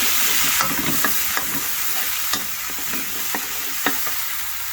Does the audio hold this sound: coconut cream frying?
yes